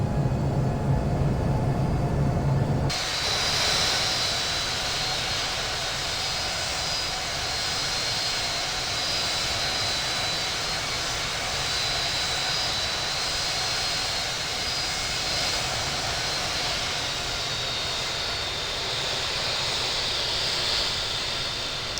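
A Southwest Boeing 737 MAX 8 jet taxiing in the Infinite Flight simulator, with a steady, loud jet engine hum and whine that starts abruptly after a brief quieter moment and then holds evenly with no talk.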